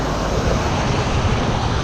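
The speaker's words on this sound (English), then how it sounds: "Big truck." A big truck roars past a cyclist riding in rainy city traffic in Toronto, a loud steady broadband rumble with road wash that holds throughout, close and with no one speaking.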